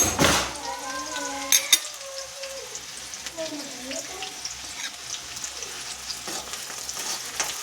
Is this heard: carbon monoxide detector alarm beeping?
no